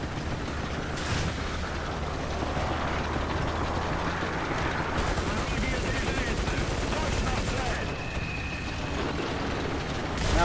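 Tank cannon fire and battle noise in War Thunder, with an IS-6 heavy tank in play, forming a dense, steady roar of distant shots and rumble with no clear single blast.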